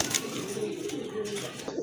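Pigeons coo softly in low, throaty murmurs, close by, over a muffled background.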